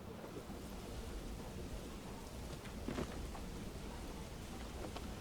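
Steady rainfall in the medieval city-builder Manor Lords hisses softly and continuously, with a faint low rumble near the middle and no voices.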